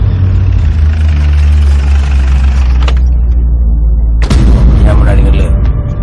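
A vehicle engine idles loudly and steadily in a Tamil film scene, with a low rumble throughout and a couple of sharp bangs or thuds partway through. Voices come in briefly over the engine.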